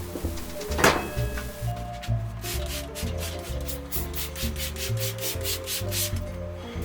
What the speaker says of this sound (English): so while this air compressor is running